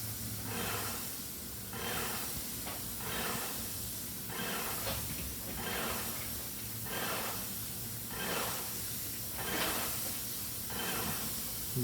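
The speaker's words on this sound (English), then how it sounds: "he sprayed the steps. Then he works high." A decontamination sprayer hisses out disinfectant in repeated pulsing bursts, roughly one per second, as steps, a cabinet and a seat are treated during a COVID-19 cleanup; close, steady, with no talk.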